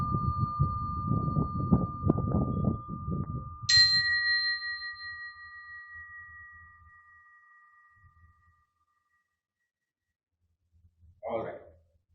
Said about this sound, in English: the next instrument we have are the simple bells